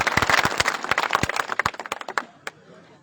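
Loud applause from a gathering of sugarcane farmers at a protest rally, dense overlapping hand claps that thin into scattered individual claps before fading out.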